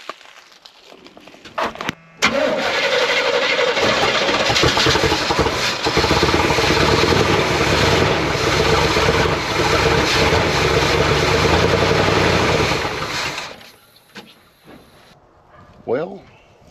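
A 1979 Chevrolet C20 square-body truck with a 454 V8 cranks and catches abruptly, then runs loud and rough for about eleven seconds before dying away, leaving near silence.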